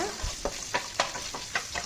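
Green chillies, added to other ingredients already cooking, sauté in a pan over low to medium flame, giving a soft sizzle broken by a series of evenly spaced scraping stirs, close and alone without talk.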